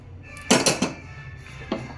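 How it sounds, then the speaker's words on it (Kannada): Roasted ajwain being transferred onto a plate gives a few close metallic clinks and scrapes of utensil on dish, a quick cluster of three knocks followed by one more after a pause. "ಇದನ್ನು ನಾನು ಒಂದು ತಟ್ಟೆಗೆ ತಕ್ಕೊಳ್ತಾ ಇದ್ದೀನಿ"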